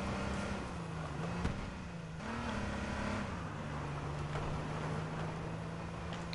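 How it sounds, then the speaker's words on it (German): A car drives nearby in the battle royale video game H1Z1, its engine a steady, fairly quiet drone whose pitch rises and dips a little. "Ich höre ein Auto."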